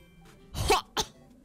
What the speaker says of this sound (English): Sorry, that was a weird cough.